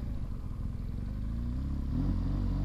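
A BMW motorcycle engine idling with a throaty, pulsing exhaust note, rising slightly in pitch near the end as it revs up a little.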